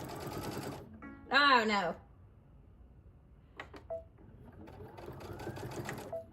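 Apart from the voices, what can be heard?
Brother sewing machine stitching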